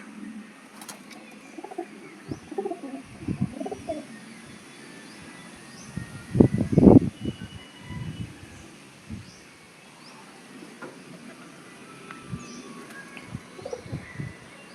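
Pigeons, including a black one, coo softly on a rooftop loft in low, throaty murmurs, with one louder, fuller coo near the middle among quieter scattered calls and faint background noise.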